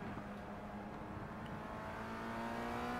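Formula Rookie race car engine in a racing video game at Silverstone, a steady droning whine with a faint rising pitch, continuous and moderately loud throughout.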